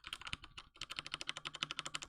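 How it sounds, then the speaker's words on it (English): Rapid typing on an AOC computer keyboard, a steady run of crisp close keystrokes that keeps going with only a brief pause early on, no voices. "The AOC keyboard, yeah, I use this for AOC because I type better on it."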